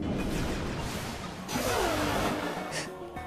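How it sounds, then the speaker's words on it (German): A loud sci-fi energy blast from a giant laser in the video game Freedom Planet surges up with a rising whoosh and crackle, sustained for a few seconds alongside game sound effects. "Jetzt kommt der Laser wieder."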